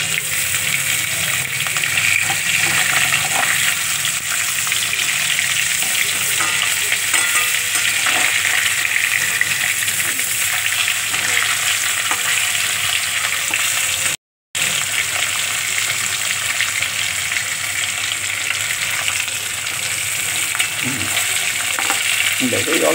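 Hilsa fish frying in oil makes a constant, even sizzle that runs close and loud for the whole stretch, dropping out for a split second midway, with no talk over it.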